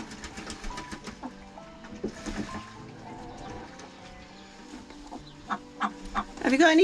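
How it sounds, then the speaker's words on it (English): A broody hen gives low growls and repeated clucks at close range, with scattered bird calls, some rising at the end, and a person speaking softly at times. "Don't you growl at me, Chuck."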